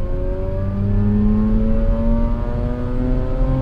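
A 2004 Mazda RX-8 rotary engine revs up steadily and smoothly under acceleration, its high whine climbing in pitch over a continuous close, loud drone.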